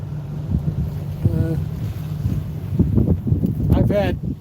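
Strong, gusty wind buffets the microphone out on Oneida Lake during winter sustained gusts near 17 to 18 mph, a steady low roar with rushing surges, mixed with water and boat noise and brief bits of voice.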